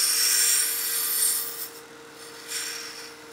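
Lathe turning an Alumilite plastic pen blank while a dust collector pulls the ribbons away, a bright hissing scrape from the cutting tool that fades and returns over a steady motor hum, close by and with no talk.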